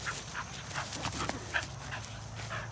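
Small dog whimpering and yipping in short repeated high whines over a noisy background, close by, with no clear talking.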